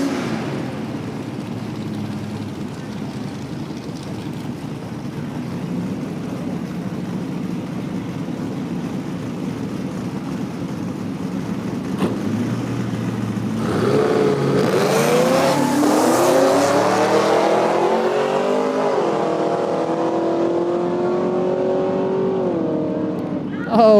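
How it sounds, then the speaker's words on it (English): A drag race between a Thunderbird and a Camaro SS at a no-prep dragway, with engines rumbling at idle before loud, rising acceleration roars launch down the strip midway through, holding strong to the end under crowd and announcer noise. "We got the Thunderbird in the right lane going up against the Camaro SS here in the left lane."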